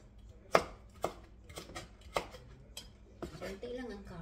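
Knife chopping hard carrots on a cutting board in a home kitchen, about seven sharp close thuds at an uneven pace, with a quiet voice speaking in between.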